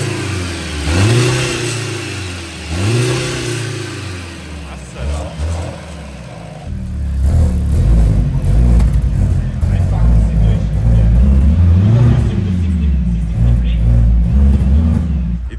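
A four-cylinder Mercedes C63 AMG engine cranks and catches, then settles into a steady mid-pitched hum and revs, with voices talking briefly over it.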